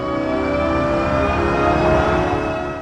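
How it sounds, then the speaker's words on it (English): Designed electric car sound built from natural sounds, a smooth, sustained tonal hum with layered steady pitches and a soft airy wash, continuous and fairly loud without pauses. "but it still sounds like a car"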